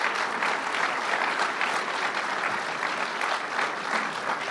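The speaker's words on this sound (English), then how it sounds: "Let's give Calvin a big round of applause." A large audience at Governor Cuomo's event applauding for SUNY Old Westbury president Calvin Butts, a thick continuous roar of clapping hands, even and loud from start to finish.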